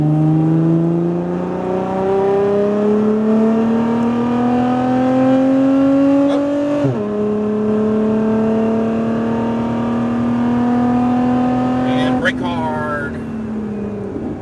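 A Lotus Emira driven hard around a track: the engine drone climbs steadily, drops sharply at upshifts and settles again under braking, loud and close inside the cabin, with an instructor talking over it.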